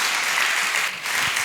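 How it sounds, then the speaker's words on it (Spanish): Audience applause following a lecture on the new world order and global conflicts, a steady broadband wash of clapping that fills the whole moment without pause. "Un aplauso por su intervención y sus respuestas a las preguntas."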